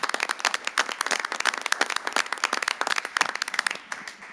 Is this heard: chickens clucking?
no